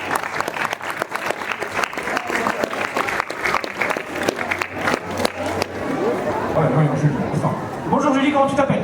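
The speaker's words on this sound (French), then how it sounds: "Bravo, on l'applaudit." An audience at a Halloween costume contest claps loudly and steadily for a contestant, dense applause with chatter mixed in, fading into crowd murmur and talking near the end.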